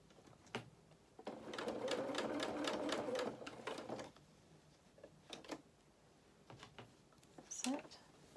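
A sewing machine runs steadily for a few seconds, stitching over gathered fabric on a doll's dress, then stops; quiet handling sounds and light clicks follow nearby.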